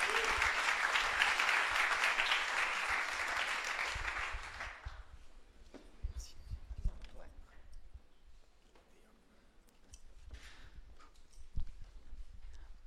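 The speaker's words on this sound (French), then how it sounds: "allez on applaudit Ola" A room full of people at a French startup pitch night applauds loudly for about five seconds before the clapping cuts off, leaving scattered murmurs, footsteps and faint talk in the background.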